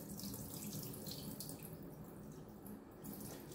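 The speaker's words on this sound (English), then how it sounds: "Let all this water drain out real quick." Water runs and drains from a kitchen sink after rinsing chicken, a steady faint rushing trickle with no talk.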